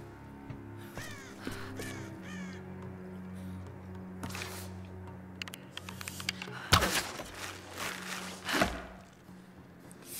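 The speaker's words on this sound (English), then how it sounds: "Birds." Crows cawing in the 2013 Tomb Raider game, a run of harsh caws in the first few seconds set against a steady low game ambience, followed by louder thumping noises later on.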